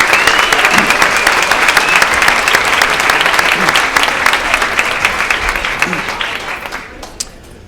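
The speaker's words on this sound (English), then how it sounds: "So can we all just do one round of applause for them?" Audience applause at an environmental summit, a dense sustained clapping from a crowd that gradually thins and fades out toward the end.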